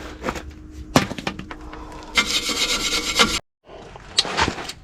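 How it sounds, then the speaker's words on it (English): A brush scrubbing dust off brake parts on a first-generation Toyota Tacoma, loud, close bursts of bristly rubbing that run in long strokes with a short pause before more scrubbing. "I'm gonna go ahead and brush this off now"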